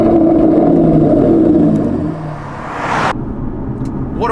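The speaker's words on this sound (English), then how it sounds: "Aston Martin to me has always been awesome sounding V12s" An Aston Martin Vanquish S V12 at full throttle, heard from inside the car as a loud, rough, climbing engine roar that surges, then eases off as the revs drop.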